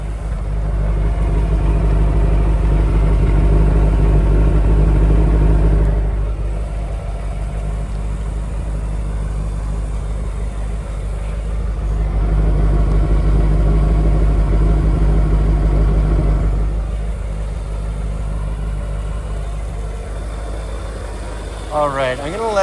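A 1994 Chevrolet Corvette with a 6-speed manual and 52K km sits idling, its engine a low, even rumble that swells and eases slightly but runs continuously.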